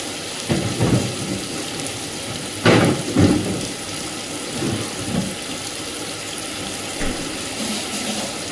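Steady hiss of heavy rain heard from inside a kitchen, with a few louder bursts of noise breaking through, continuous throughout with no voices.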